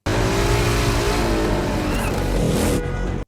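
A motorcycle jump stunt in the 1996 action film Barb Wire, heard as a loud roaring, revving engine with a hint of tire squeal, steady before cutting off abruptly near the end.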